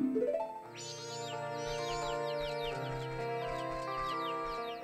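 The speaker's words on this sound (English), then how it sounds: "Keep marching around the yard until all 10 cuckoo chicks are following Link's lead." Cuckoo chicks clucking and chirping in Majora's Mask 3D, several small bird-like clucks repeating over a bright, steady game music backdrop, fairly close and lively.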